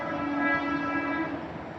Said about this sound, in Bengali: বাড়ির কাছে স্টেশন তো সবসময় ট্রেনে আওয়াজ এগুলো থাকেই